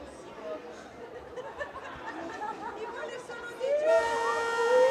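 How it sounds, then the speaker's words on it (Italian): A roller hockey arena siren sounds during a Serie A2 game between Seregno and Modena, a sustained loud tone rising in over the last second above steady crowd chatter and nearby talking. "la sirena dice che dobbiamo tornare in pista"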